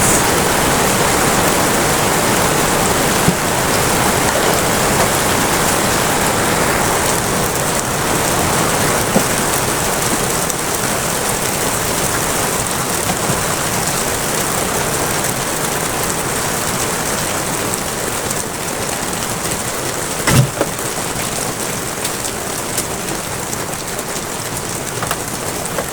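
Tap water runs steadily while raw chicken is washed in a Kenyan home kitchen, a continuous loud hissing splash with occasional faint clatter, no voices.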